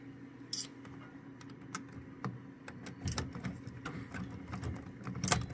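A nut is tightened on a Stern Metallica Remastered pinball machine with a screwdriver and a 3/8 socket, giving quiet, irregular metallic clicks and small scrapes that sound close by.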